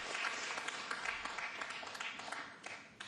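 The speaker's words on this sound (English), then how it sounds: "That brings a smattering of applause." At a 9-ball pool tournament in Guangzhou, a faint, distant smattering of audience applause rises and tapers off, a thin scatter of claps heard in a quiet hall.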